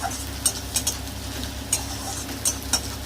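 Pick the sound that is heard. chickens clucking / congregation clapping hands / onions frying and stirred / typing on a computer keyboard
onions frying and stirred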